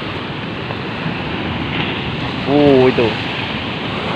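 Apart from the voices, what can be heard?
ocean waves on a beach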